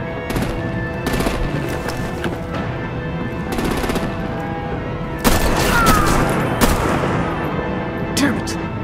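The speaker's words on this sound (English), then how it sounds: "Break out the artillery and disable their vehicles!" Heavy artillery and rapid gunfire in Batman: The Enemy Within, dense overlapping bursts and booms close and loud throughout, with voices shouting over the barrage.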